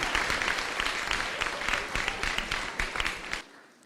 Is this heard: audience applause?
yes